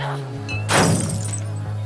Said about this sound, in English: Chloe angry, Chloe smash. We're gonna mess up the junkyard